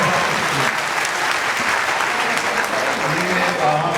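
A large audience applauds at a World Teachers Day children's expo in Karachi, a dense, steady wash of clapping that holds at an even level for the whole stretch.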